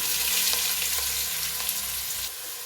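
Thinly sliced onions frying in hot oil, a loud continuous hissing sizzle with light stirring noises underneath.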